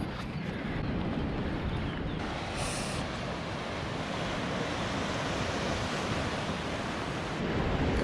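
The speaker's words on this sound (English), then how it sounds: "Sit and watch those waves all day." Ocean waves break and wash continuously along the Nusa Penida coast near Broken Beach, a loud, steady roar of surf mixed with wind buffeting the microphone, with no voices.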